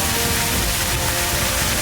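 Rain falls as a dense, even hiss of drops across the whole stretch, close and fairly loud, with no voices over it.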